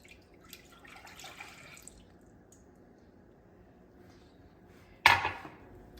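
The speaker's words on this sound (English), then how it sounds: "We've got 8 ounces of milk. Now let's pour it" Milk is poured into a cup for hot cocoa. After a quiet stretch with faint trickling, it arrives in one short, splashing gush near the end.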